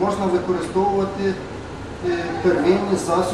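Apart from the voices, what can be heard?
None of the usual background noises is heard.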